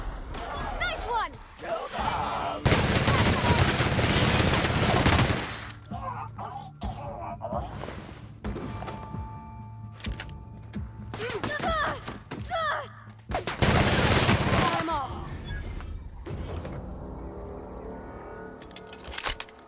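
Gunfire from a weapon in The Outer Worlds comes in two long, loud, sustained bursts of rapid shots, with scattered thumps and quieter combat noise in between.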